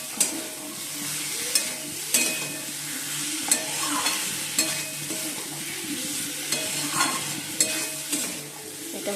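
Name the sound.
sautéing spices in a pan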